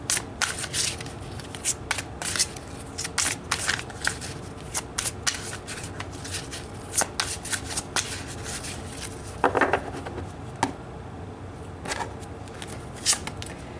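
A deck of tarot cards being shuffled at close range, with repeated riffling and sliding bursts in an uneven rhythm for the whole stretch, quiet and with no talking.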